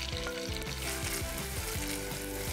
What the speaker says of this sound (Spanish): En una olla colocamos mantequilla, esperamos a que se derrita y salteamos cebolla